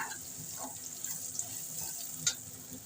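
Eight to ten crushed garlic cloves dropped into a hot pan of oil, giving a soft, steady sizzle with faint crackles and a brief louder pop near the end, quiet and close.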